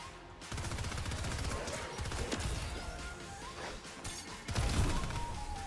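Rapid SMG gunfire in the video game Fortnite, with dense bursts of sharp shots and impact crashes that rattle on almost continuously at close range.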